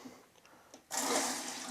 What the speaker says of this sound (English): turn the water on and allow the cistern to fill